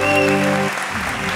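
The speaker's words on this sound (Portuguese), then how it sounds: "Uma salva de palmas!" Studio audience applause at a comic hypnosis stage show, a brief loud burst of clapping over a held musical tone that cuts off partway.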